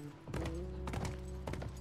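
Horse hooves clip-clopping steadily beneath a rider in The Last of Us, a close, even walking rhythm of repeated hoof strikes lasting a couple of seconds with no talk.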